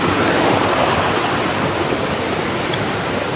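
A river flows beside a muddy mountain hiking trail to Kawah Ratu on Gunung Salak near Bogor, a steady close rushing of water with no break.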